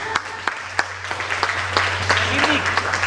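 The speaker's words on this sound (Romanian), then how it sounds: "Mai aplaudați-l odată că e timid." Applause at a music and poetry show, a crowd clapping steadily and close, starting with a few scattered claps that build into fuller applause, with a low steady hum underneath and a faint voice near the end.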